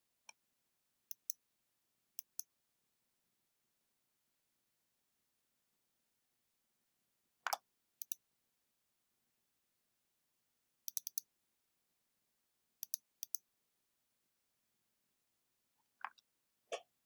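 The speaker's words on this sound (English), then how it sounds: "I'm going to click down here." Computer mouse clicks come in sparse, crisp pairs and small bursts against near silence, close and quiet, spaced unevenly with long gaps between.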